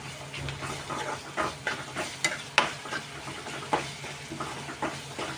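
Onions fry with ginger garlic paste and a pinch of turmeric for a raw banana fry, with a soft, steady sizzle and frequent scraping stir strokes that come in a loose rhythm, close but fairly quiet.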